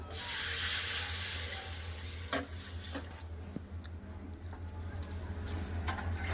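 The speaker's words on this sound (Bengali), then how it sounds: "ডাল উসানোর জন্য কড়াই জল দিয়ে দেবো" Water poured into a hot wok of fried moong dal for boiling, bursting into a loud hiss and spray of steam that slowly settles into a softer bubbling sizzle with a few sharp clinks, close by.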